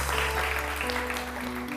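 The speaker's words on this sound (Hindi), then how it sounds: "इनके लिए बहुत सारी तालियां" Studio audience applause on a morning television show, with dense, steady clapping from a crowd that continues throughout and a faint hum underneath.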